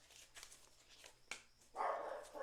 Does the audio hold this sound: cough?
no